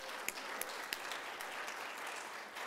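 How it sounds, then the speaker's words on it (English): Soft, distant applause from a symposium audience honoring students' applied economics research, a steady patter of clapping with a few sharper claps. "One more last a round of applause"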